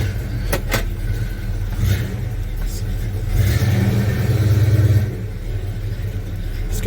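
A 1984 Chevy C1 pickup's engine rumbles low and steady as the truck drives, swelling briefly as it revs, with a voice talking over it.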